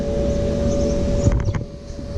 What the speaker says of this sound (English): There's a street sweeper outside and it's rowdy AF.